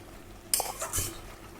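Prawns added to a pot of cooked taro flowers, then a lid placed on top, heard as two short, faint metallic clatters about half a second apart over a quiet simmer.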